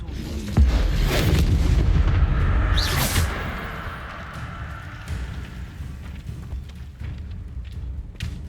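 A Confringo blasting spell in the Hogwarts Legacy video game lands as a heavy, booming explosion with a deep rumble. A sharp whooshing burst follows a few seconds later, then a fading low roar.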